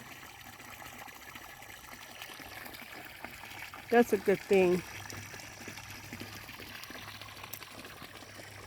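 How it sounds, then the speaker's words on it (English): Water pumped out of the ground from a septic system runs steadily down a ditch with a constant rushing flow, and a short burst of talk cuts in midway before the steady flow continues alone. "So this is from the septic system, pumping water out from the ground."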